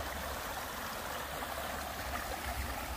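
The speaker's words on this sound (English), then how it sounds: "So it's like each lake is pouring into the other lake that's pouring into the other lake." Water pours steadily from one lake into another at Floyd Lamb Park at Tule Springs in Las Vegas, a continuous broadband rush at moderate distance, with no voices.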